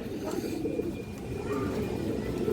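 A silver bezi female pigeon coos in soft, repeated low calls close by, over steady background noise.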